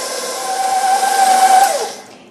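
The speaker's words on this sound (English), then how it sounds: "so now I'm going to add my flour, baking soda, and salt. And mix this together. I'm going to start on low" An electric stand mixer runs on low, mixing flour, baking soda and salt for cookie dough: a steady close motor whine and hum lasting about two seconds before spinning down.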